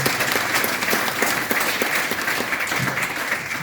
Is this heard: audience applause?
yes